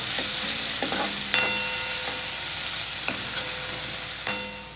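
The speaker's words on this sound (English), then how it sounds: "now to this we'll add onions. We'll saute the onions." Onions sautéing in a pan for a Kathiawadi sev curry give a steady sizzle, close and loud, punctuated by several sharp ringing clinks of a spoon against the metal pan as they are stirred, with no talk.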